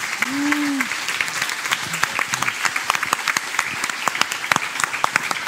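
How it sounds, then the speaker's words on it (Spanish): Audience applause at a Cartagena Negra 2021 crime-fiction event in Cartagena, a steady crowd of many clapping hands for several seconds, with a brief voice at the start. "Así que démosles un aplauso porque a los 4 se lo merecen."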